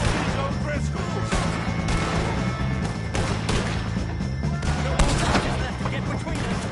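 A dense, loud barrage of gunfire fills a Red Dead Redemption 2 shootout against O'Driscoll gang members. Overlapping shots and crashes continue without a break, with shouting voices mixed into the chaos.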